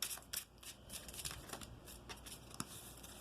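Tarot cards are shuffled close by, a soft papery riffling in quick, uneven bursts over a faint steady hiss, with no voices.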